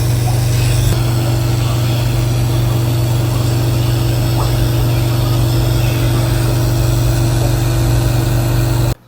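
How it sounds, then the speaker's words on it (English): A new aquarium air pump mounted high at tank level runs with a steady, even hum that continues alone until it stops abruptly at the end. "The pump sits high up there, sort of at the levels of the tank, so it doesn't have to do that much work pushing up."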